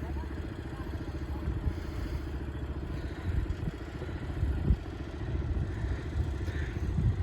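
Boat engine on a company boat service near a bridge over a dam reservoir, a steady low chugging drone with clattering, heard close and continuous.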